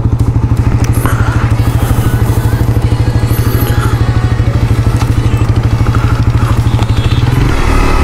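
Suzuki GSXR 150, Indonesian version, running loud and close with a steady rapid engine pulse throughout, easing slightly near the end.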